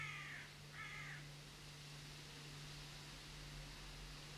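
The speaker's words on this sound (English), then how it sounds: "My window's open, so the birds are just about to go to bed, I think." Outside an open window, a crow gives two quick harsh caws from some distance, then only a steady hiss and low hum remain, with no one talking.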